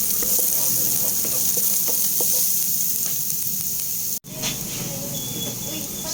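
Garlic fries in a pan with a loud, steady sizzle and hiss, broken by a brief dropout and then continuing with occasional stirring clicks and a faint whine.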